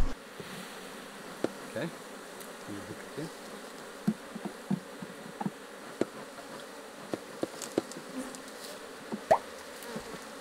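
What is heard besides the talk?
honey bees buzzing in an opened hive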